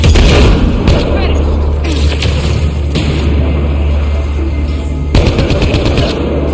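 Turrets fire in Mass Effect Andromeda, with heavy bursts of rapid shots and booming hits coming in clusters over a low rumble, while a voice speaks between the volleys.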